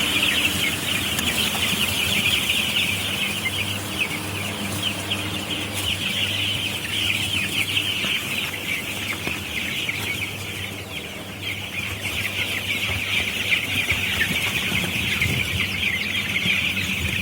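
Many young tiger-breed chicks, thirteen days old, chirping and clucking together in a constant, busy chorus, close by, steady throughout with a faint background hum.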